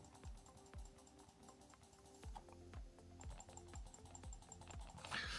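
A standard laptop mouse pressed hard gives a series of sharp, irregular clicks, close and fairly crisp, some coming in quick pairs, with no talking.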